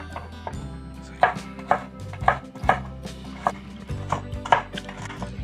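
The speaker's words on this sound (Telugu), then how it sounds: "ముందుగా క్యారెట్ని పీల్ చేసుకొని చిన్న ముక్కలుగా కట్ చేసుకోవాలి" A knife chops a peeled carrot into small pieces on a board, a run of sharp, close thuds at an irregular pace, roughly ten cuts over a low background hum.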